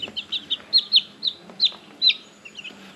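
Chickens on a small poultry farm cluck in a quick, uneven series of short calls, fairly close and moderately loud, with no talking.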